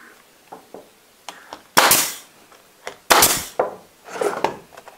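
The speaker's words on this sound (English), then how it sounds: "Take a nail gun." A nail gun fires into wood while a table saw crosscut sled is built: two loud, sharp bangs stand out among several lighter clicks and knocks close by.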